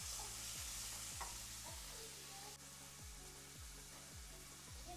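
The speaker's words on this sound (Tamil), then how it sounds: "நான் இப்போ வந்து உப்பும் மஞ்சத்தூளும் போட்டு வதக்கிக்கிறேன்." Onions sauté in a pan with salt and turmeric for a Kadaknath black chicken curry, a soft steady sizzle broken by regular rhythmic spatula scrapes, fairly quiet and close.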